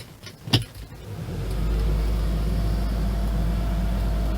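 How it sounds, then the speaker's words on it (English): A New Holland CR920 combine harvester engine cranks and catches after a short burst of clicks and handling noise, then settles into a loud, steady low rumble that holds close by to the end. "Go in and start the combine."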